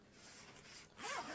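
A zipper on a large zippered bag is pulled in short, close strokes, a soft scratchy whir that grows louder and brighter on the final pull.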